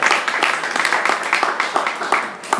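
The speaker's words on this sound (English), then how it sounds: "give a round of applause" Audience clapping at a startup pitch night, a lively burst of applause from a moderate crowd with distinct individual claps, fairly close and continuous.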